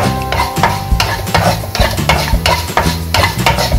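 Crushed vermicelli stirred and roasted brown in a hot pan, a loud close scraping and rustling sizzle with steady rhythmic strokes of the spoon, no voices.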